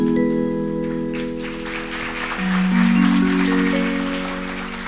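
An audience claps at a Chhattisgarhi cultural stage performance: steady, crowded applause that swells slightly midway, over sustained musical tones from instruments.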